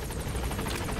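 A support helicopter arrives in the video game Metal Gear Solid V: The Phantom Pain with a loud, close, steady rotor thump and engine whine filling the whole clip.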